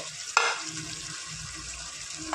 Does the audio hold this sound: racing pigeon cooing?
no